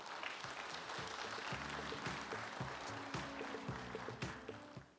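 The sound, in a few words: audience applause welcoming a speaker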